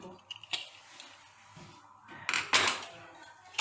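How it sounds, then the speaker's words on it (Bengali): A pressure cooker lid is worked open with a few metallic clicks and clatters, then a louder burst of rattling and hissing near the end, close and fairly quiet overall. "এবার আমি কুকারের ঢাকনাটা"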